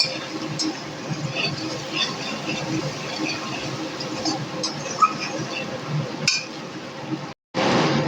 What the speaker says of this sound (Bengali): আর দিয়ে দেব হলুদ খুব ভালো করে নেড়ে চেড়ে নেব